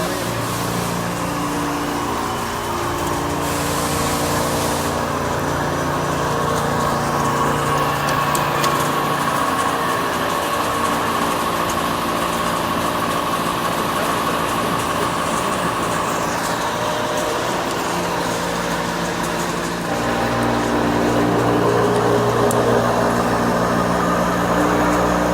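A VW crankshaft machining cutter runs steadily in the SCAT factory, a loud, continuous industrial hum and whine with layered tonal bands and a brief rise in intensity near the end, no voices.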